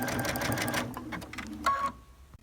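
A sewing machine runs a zigzag stitch on cuddle fabric appliqué, a loud fast burst of needle clatter that stops, then short stop-start stitches around a curve with brief pauses.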